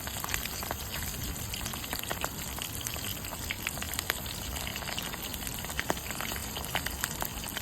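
Tuyo, salted dried fish, fries in hot oil with a dense, even crackling sizzle that runs without a break, close and moderately loud with no talking.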